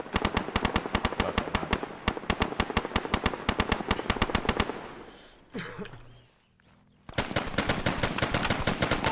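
Rapid automatic gunfire in a firefight in the video game Arma 3: dense, loud bursts of shots, a brief muffled lull, then another sustained volley.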